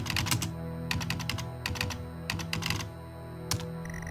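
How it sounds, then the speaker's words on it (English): Computer keyboard typing from the Stories Untold video game, set in an 80s bedroom at a wood grain desk: close, rapid clusters of key clicks with short pauses between bursts over a low steady hum. "I'd say my favorite aspect about House Abandoned, and to some degree the other episodes as well, is the sound of the keyboard"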